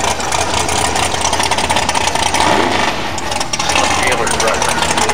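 A drag racing car's high-horsepower engine idles loud and near with a rough, lumpy, continuous rumble amid crowd noise at the strip.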